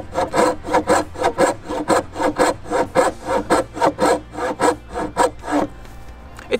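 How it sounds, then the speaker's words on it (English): A handsaw cuts wood for the sides of a guitar body, about fifteen close, steady back-and-forth rasping strokes in a regular rhythm, then quiet at the end. "the advantage of using a handsaw is that I have so much more control and I can get so much closer to the line"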